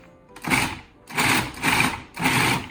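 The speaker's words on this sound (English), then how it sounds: "now we're just going to chop this a little bit in the food processor" A food processor chops rabbit liver for a terrine in three short pulsed bursts of whirring motor, close and fairly loud, with brief pauses between them and no talking.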